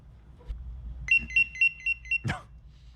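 A pager gives off a quick run of about five or six bright electronic beeps at close range, followed by a short rough burst of noise.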